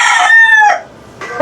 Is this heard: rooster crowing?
yes